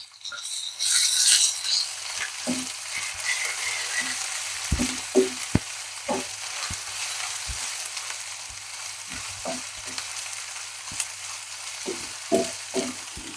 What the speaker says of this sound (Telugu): వేగడం స్టార్ట్ అయిందండి ఈ టైంలో ఒక హాఫ్ టీ స్పూన్ అల్లం వెల్లుల్లి పేస్ట్ వేసుకుందాం